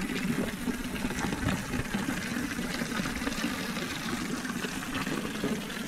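A small spring flows steadily at a stone wash house, a continuous soft trickling and burbling of water with no pauses throughout.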